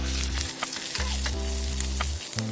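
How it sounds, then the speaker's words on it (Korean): Pre-grilled meat is stir-fried in a pan with garlic, leek and ginger, a loud crackling sizzle with a few scraping stirs, over a steady low hum that drops out briefly. "여기에 이 초벌구이한 고기를 넣어서 볶아줄게요"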